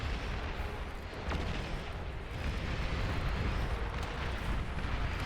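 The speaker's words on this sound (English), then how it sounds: "so many missiles coming out here" Missiles and rockets fire in the strategy game Beyond All Reason, a dense, continuous barrage of booming blasts and rumbling explosions layered over one another.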